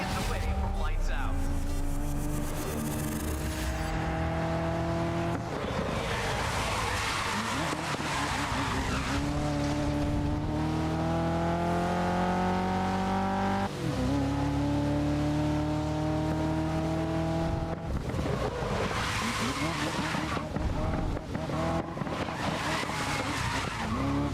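Race car engine in GRID (2019) drones and revs steadily across the whole stretch with rising and falling gear sweeps, tire skids and squeals, close and loud, with someone talking over it.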